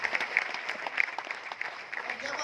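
Audience at a star celebration event in New Delhi claps steadily for a couple of seconds, a dense, moderately loud patter of many hands with a few sharper claps standing out, plus faint voices in the mix.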